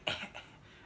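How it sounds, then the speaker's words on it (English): One short, breathy cough sounds close by, followed by a softer second exhalation in a quiet room. The cough comes from a woman one week after breast augmentation surgery. "I can also do regular coughs."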